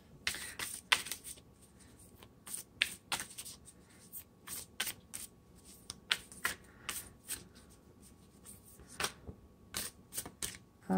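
Tarot cards being shuffled by hand, a series of quick crisp riffles and snaps in irregular bursts, close and clear against a quiet background, ending as a card is pulled.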